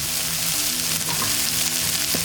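Onions frying in a pan for keto chicken sizzle with a dense, steady crackle and hiss, close and continuous, with a faint stir toward the end.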